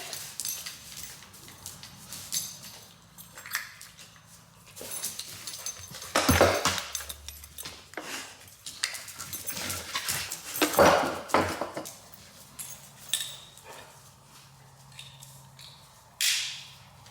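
Dogs whimper, squeak and pant in short bursts before heading out for a walk, fairly close, with bright yelps and shuffling movement between quieter pauses.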